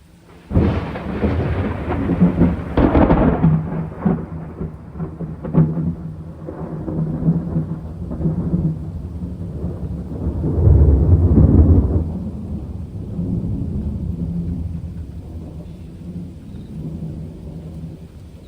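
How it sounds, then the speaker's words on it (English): A nighttime thunderstorm rolls in the open, with loud close rumbling thunderclaps that swell and fade over steady rain, a second long growl building midway before settling into softer rainfall. "that storm hit harder than I thought it was going to hit"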